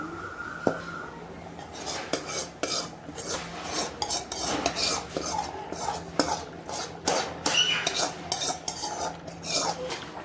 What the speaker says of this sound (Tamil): இந்த தாளிப்பு எடுத்து மீன் குழம்புல ஊற்றிடலாம்